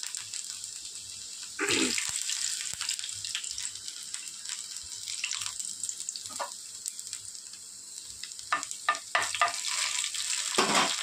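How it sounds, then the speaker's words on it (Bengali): Minced ginger and garlic go into very hot oil and set off a bright sizzle that carries on steadily. Scattered clinks and stirring sounds follow, with a few sharper spatters near the end. "তেলটা গরম হয়ে গিয়েছে খুব ভালো করে, এবার দিয়ে দেব আদা রসুনের কিমা করা"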